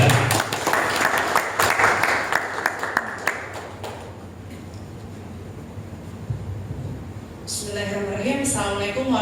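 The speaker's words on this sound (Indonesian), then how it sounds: "kita beri tepuk tangan yang meriah untuk Ibu Nida Maria" An audience at a corporate talk gives a hearty round of applause for Ibu Nida Maria. Dense clapping fills the first few seconds, then thins and fades out before other sounds take over.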